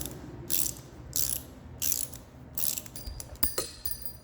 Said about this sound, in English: So you just use this ratchet here. Just keep spinning her. Keep tightening her down.